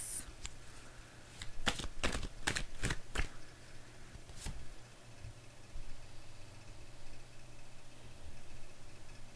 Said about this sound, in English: it's coming through as I'm shuffling cards